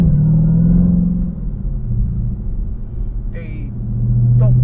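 A Dodge Hellcat car engine while driving, a loud low steady rumble that swells and eases slightly, with a voice talking over it in the cabin.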